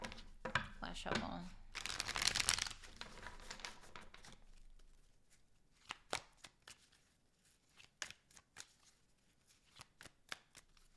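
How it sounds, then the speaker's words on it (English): Tarot cards get shuffled by hand, a burst of dense riffling and fluttering up close followed by a series of sharp, separate card taps and slaps spaced out over the quieter second half. "Last shuffle."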